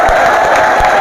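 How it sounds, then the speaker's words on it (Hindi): Loud, close applause and crowd noise fill a seminar hall as the audience welcomes Professor Narendra Parmar, a brief dense wash of clapping with a few cheers mixed in. "प्रोफेसर साहब का जोरदार तालियों से स्वागत"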